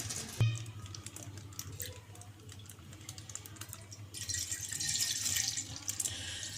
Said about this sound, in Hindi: ये हम दूध डाल रहे हैं, अभी मैंने गैस चालू करी नहीं है।